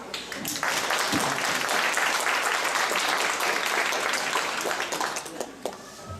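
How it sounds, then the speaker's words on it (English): Sustained applause from an audience at a fundraising concert at World Vision headquarters in Monrovia, a dense wash of many clapping hands lasting several seconds before tapering off at the end. "So let's give them a applause."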